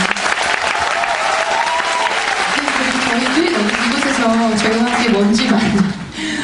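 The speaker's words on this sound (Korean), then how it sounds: "다시 한번 진심으로 뜨겁게 박수 부탁드립니다" A theatre audience at the final performance of the Korean musical The Devil applauds loudly and steadily, the dense clapping lasting several seconds while a voice and cheers rise over it before it fades slightly.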